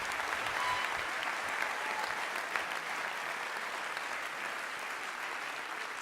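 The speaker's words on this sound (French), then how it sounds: "merci pour ces premiers applaudissements ce soir pour les skippers" An audience applauds at the Vendée Globe sailing race awards ceremony, a steady, full clapping from a large crowd in a hall that continues evenly throughout with no speech.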